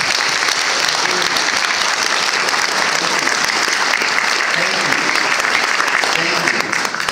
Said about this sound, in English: Please, a round of applause for them as well